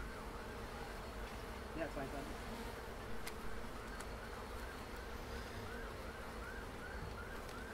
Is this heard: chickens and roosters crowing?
no